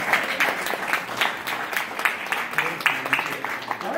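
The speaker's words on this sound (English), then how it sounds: "Let's have a round of applause for them." An audience at a Democratic club meeting breaks into steady applause, a dense wash of many hands clapping at moderate distance, with some voices mixed in throughout.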